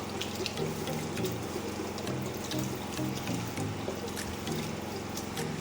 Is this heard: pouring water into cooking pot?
yes